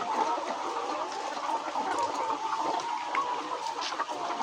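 Layer hens about eight months old, some sick with fowl cholera, cluck steadily in a poultry house, a dense continuous murmur of clucks and calls at moderate loudness with no talking.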